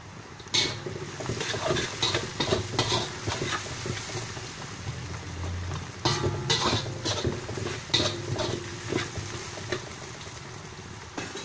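Shrimp paste being stirred into wilted onions in a pan for sambal tumis, with a steady close sizzle under repeated scraping and clinks of a utensil against the metal.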